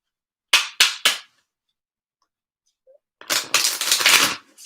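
Three quick riffles of playing cards, a pause, then a longer burst of card shuffling and flapping, close and crisp.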